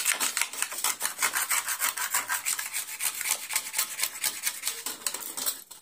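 A metal spoon scrapes back and forth against a gas stove stand during cleaning, a steady gritty rasping rhythm of quick strokes, close and clear with no talking.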